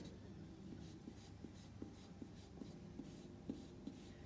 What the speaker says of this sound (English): So that's a real soft lead pencil I just did it with